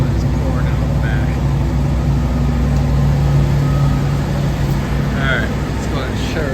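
A Cadillac engine idles after a cold start with no exhaust fitted, giving a steady, close, rough drone that runs unbroken throughout.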